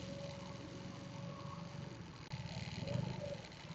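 A stock motorcycle engine idles steadily, a low continuous rumble held at an even level throughout with a slight rise in loudness partway.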